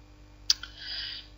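A single sharp computer mouse click, close and faint, followed by a smaller tick and a brief soft rustle in a quiet room.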